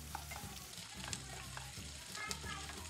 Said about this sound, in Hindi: अब हम इसमें डाल देंगे 1 छोटे साइज का प्याज कटा हुआ और इसे 2 से 3 मिनट के लिए पका लेंगे।